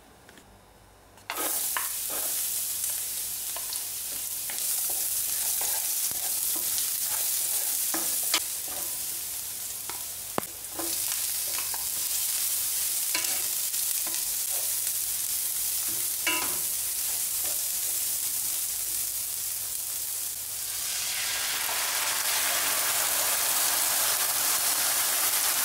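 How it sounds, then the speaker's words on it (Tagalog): Sardines sauté in a little hot oil with malunggay leaves and sayote, giving a loud, continuous sizzle with occasional stirring scrapes and clinks throughout. "umpisahan po natin ang ating pagluluto ng ginisang sardines na may dahon ng malunggay at sayote"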